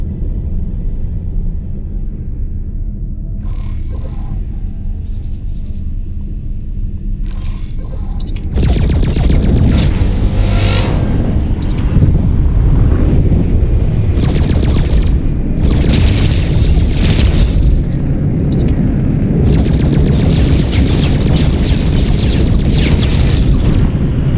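Weapons firing in the space game X4: Kingdom's End, heavy booming blasts and continuous rumbling explosions that start abruptly after a quieter opening and stay loud and dense to the end.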